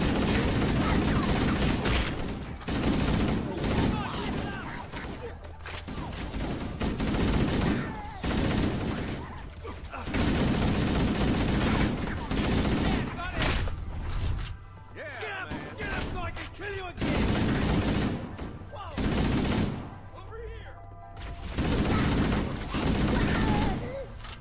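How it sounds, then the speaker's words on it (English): Heavy, sustained gunfire from friendly troops in Halo 1 (Master Chief Collection), with repeated loud bursts and brief pauses over a long stretch, mixed with mechanical clatter and impacts, while someone talks over it. "My own dudes are shooting me."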